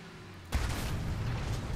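A single loud, close cannon blast from a Tiger II H tank in War Thunder, a sudden boom followed by a sustained rumbling decay.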